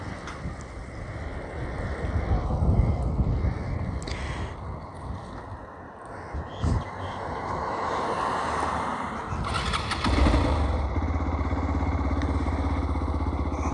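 A motorcycle engine running steadily while riding off-road through a pond bed, a close continuous drone with rough rattling and surges over the whole stretch, no voices on top.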